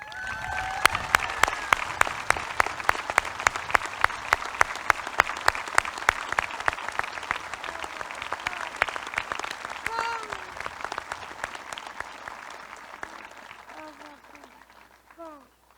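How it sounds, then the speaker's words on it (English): Sustained audience applause at a high school graduation ceremony, a dense steady clapping from a large crowd that gradually thins and fades over about fifteen seconds, with brief chirpy voice sounds near the end. "Please join me in a round of applause for 2022 graduate, Kadina Pashada."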